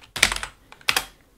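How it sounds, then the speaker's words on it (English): Number hotkeys on a computer keyboard are pressed in two quick bursts of crisp, close clicking keystrokes separated by a short pause, with no voices present. "when I click one number keys on my keyboard, 1, 2, 3, 4, it will just keep swap this perspective view"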